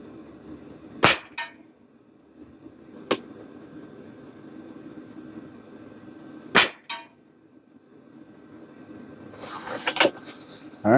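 A Pinty Nightfall .22 regulated air rifle fired at a target: sharp, separated cracks spaced several seconds apart, each with a short metallic ring, in an otherwise quiet outdoor setting.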